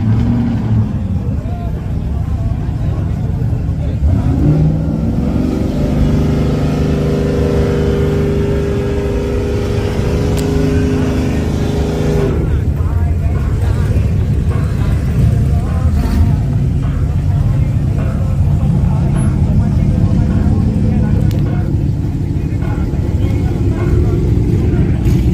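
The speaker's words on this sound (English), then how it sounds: "Oh, that's a ZL1." A Chevrolet Camaro ZL1 roars as it passes on the street, a loud, continuous engine drone with a deep low rumble that holds steady and swells slightly, running under people chatting nearby.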